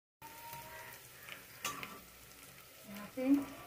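Onions frying and being stirred in a pan for a Hindi-style kachori and ghughni curry, a soft steady sizzle with occasional scraping stirs, closer clatter near the end.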